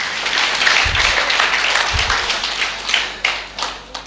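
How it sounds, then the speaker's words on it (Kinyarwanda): A church congregation applauds God with vigorous, sustained clapping from many hands for about four seconds, mixed with a few low thumps and tapering into scattered claps at the end. "Dukomere Imana amashyi menshi cyane."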